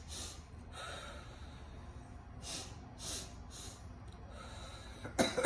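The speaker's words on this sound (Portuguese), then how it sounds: "inspirando e expirando" A person recovering from COVID-19 lung problems breathes deeply in and out during a respiratory exercise, with slow, soft, airy breaths repeating several times, close and quiet, ending in a sharper snort.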